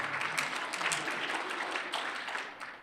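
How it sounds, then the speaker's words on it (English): An audience at a live IT professional forum claps together in a short burst of steady, moderately distant applause that fades out at the end. "Let's give a round of applause."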